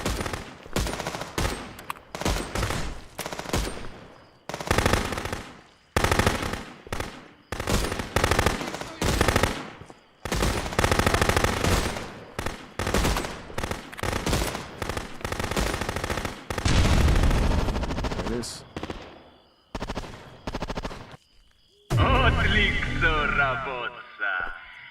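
Sustained gunfire during a large attack in the video game Contraband Police: long stretches of rapid automatic bursts and overlapping shots with brief gaps, loud and dense throughout.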